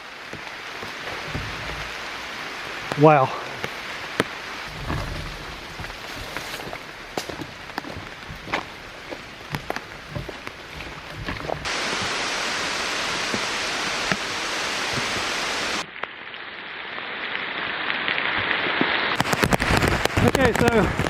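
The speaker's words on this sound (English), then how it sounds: "we're getting the rain now" Rain pours down outdoors, a dense broad hiss that grows heavier and louder in the later part, with some brief talk and rustling.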